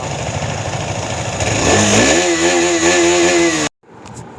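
A KTM Adventure motorcycle engine rumbling and then revving up as the bike pulls away, a loud close drone rising in pitch before cutting off abruptly, followed by quieter noise.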